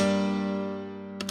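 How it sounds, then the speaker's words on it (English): A single low piano note, processed with tilt EQ, rings out and slowly decays, sustained and fairly quiet. "without it, the low piano sounds like this,"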